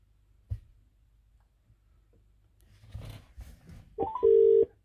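A phone call rings through the Bluetooth system of a Ford Transit Custom van, with a dial tone and ringing beeps rising near the end after a few quiet knocks and faint shuffling.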